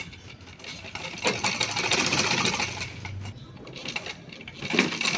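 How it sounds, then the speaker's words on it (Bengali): A household sewing machine runs in bursts while stitching clothes, a close mechanical whirr and rattle that speeds and slows in uneven spurts. "এই যে মোটামুটি সিলেই মেশিন আমার আজকে বেশি জ্বালাই নাই, মেশিন ভালো ভালোই চলছে"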